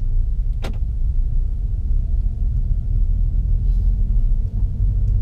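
A manual car pulls away in first gear around a parking lot, a steady low engine rumble with a brief click near the start and no talking.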